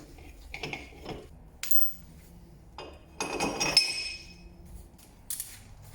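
Socket wrench turning spacer bolts on a Corvette drift car, a sequence of short metallic ratcheting clicks and clinks in separate bursts, close and fairly quiet.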